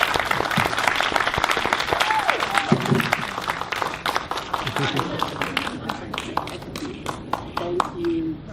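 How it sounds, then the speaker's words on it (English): An audience claps at a ribbon cutting for the Chris Dyer Gymnasium, a dense round of applause that gradually thins into scattered individual claps, with voices speaking over it. "Help me applaud this outstanding."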